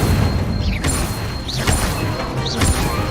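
Incendio fire spell blasts in the video game Hogwarts Legacy go off as repeated whooshing bursts over a constant dense background of game sound, three swelling casts spaced about a second apart.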